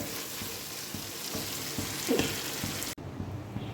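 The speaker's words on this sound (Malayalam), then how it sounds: "ആ വെളിച്ചെണ്ണയിൽ കിടന്ന് കുറേശ്ശെ ഇത് ഷാലോ ഫ്രൈ ആയിട്ട് വന്നു തുടങ്ങിയിട്ടുണ്ട്" Squid shallow frying in coconut oil, a steady crackling sizzle with scattered pops, moderately close, continuing alone with a brief break near the end.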